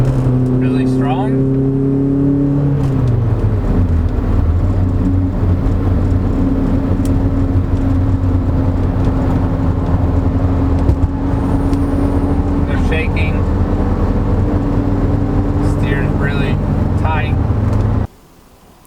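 A 1987 Mercedes-Benz 190E 2.3-16 Cosworth engine accelerates hard, a loud droning engine note rising in pitch through a gear, heard from inside the car with the tone steady and strong until it cuts off near the end.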